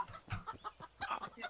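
Chickens cluck in a fantasy video game, giving a quick series of short, fairly faint clucks in uneven rhythm with no talk over them.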